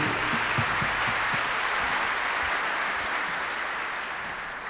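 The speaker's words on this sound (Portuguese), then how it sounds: "Você pode dar uma salva de palmas para esse Jesus que te salvou?" Church congregation applause fills the room in a steady, dense roar of clapping that fades slightly toward the end, with a few faint voices beneath it early on.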